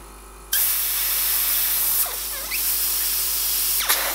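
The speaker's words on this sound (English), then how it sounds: "So I'm just going to pop a little bit in there and spray a bit and see how it pans out." An airbrush sprays green paint on a horror portrait, starting abruptly with a loud, steady close-up hiss that holds for several seconds with slight fluctuations.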